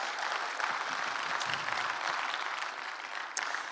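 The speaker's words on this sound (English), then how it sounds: "give that a round of applause." A church congregation breaks into steady, sustained applause throughout, a dense wash of clapping from many hands with a slight lift near the end.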